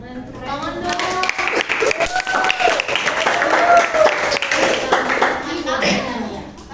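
Audience clapping at a relaxed talk show, dense sustained applause building for several seconds, with voices and cheers riding over it.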